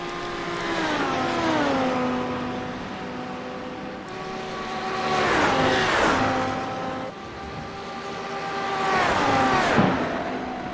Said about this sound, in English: These two Audis are pretty evenly matched